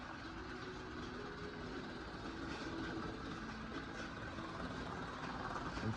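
A 1980s Bachmann HO scale electric model train with a diesel locomotive rolls steadily around a layout, giving a constant whirring motor hum and rail rumble at a low, even level with no talking.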